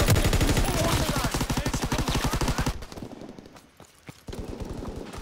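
An MG15 machine gun in Call of Duty WWII fires a long, steady, rapid stream of loud, close shots, stops abruptly, then starts firing again after a short pause.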